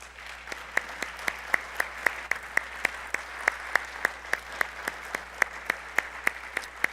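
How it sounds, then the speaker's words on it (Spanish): A church conference congregation claps in praise, a sharp, evenly spaced rhythmic beat of hands striking together in unison, steady and moderately loud over a quiet room hum. "Denle un aplauso al Señor por eso."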